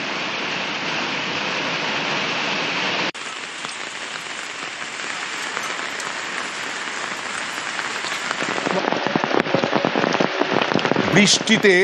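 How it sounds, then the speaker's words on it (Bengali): Torrential rain pours down in Dhupguri, Jalpaiguri, a dense, loud, continuous roar of water that grows harsher and more spattering toward the end. "ধূপগুড়িতেও মুষলধারায় বৃষ্টি"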